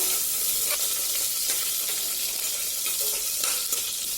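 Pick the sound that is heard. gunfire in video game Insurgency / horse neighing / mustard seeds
mustard seeds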